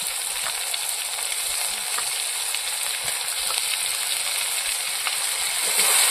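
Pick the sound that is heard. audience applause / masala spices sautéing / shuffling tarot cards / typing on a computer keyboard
masala spices sautéing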